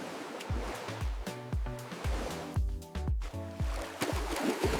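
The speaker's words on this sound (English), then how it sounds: "I am enjoying a beautiful afternoon at the beach, really mind freshening" Ocean waves wash onto a beach in an AI-generated scene, a soft continuous surf rolling in gentle surges, fairly quiet and without speech.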